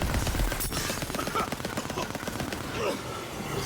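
A Magic Barrage spell attack in Tiny Tina's Wonderlands firing as a rapid, dense stream of crackling shots like machine-gun fire, loud and continuous amid busy combat noise.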